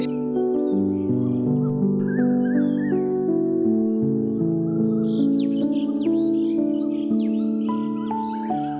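A flock of migratory birds chirps and calls in quick overlapping bursts, growing busier in the second half, over a loud, sustained tonal drone that dominates the whole stretch.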